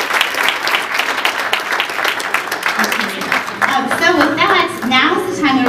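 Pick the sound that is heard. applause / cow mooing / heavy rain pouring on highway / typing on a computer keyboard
applause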